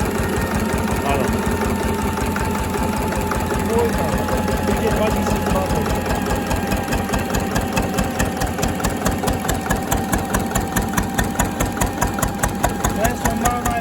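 A SLAVIA 8hp stationary diesel engine runs steadily nearby, its loud rhythmic knocking thump repeating evenly throughout, with a mechanical clatter over the low pulsing beat.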